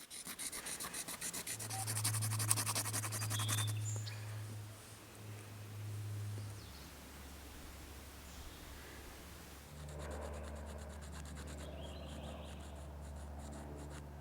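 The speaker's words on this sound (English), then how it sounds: "Begin by grinding down the tip of your raccoon baculum until you have a sharp point." A raccoon baculum tip being ground to a sharp point against a rock, producing a steady close rasping rub that swells and fades in long strokes, with a low hum underneath.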